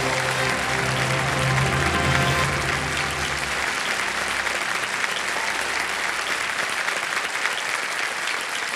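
Studio audience applause on the KBC (Kaun Banega Crorepati) quiz show: loud, dense clapping that runs steadily for about nine seconds, with a low tone underneath at the start.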